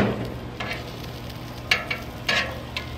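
Breakfast sandwich ingredients frying on a Blackstone griddle, a steady crackling sizzle with occasional scraping stirs of a spatula, close and continuous with no voices.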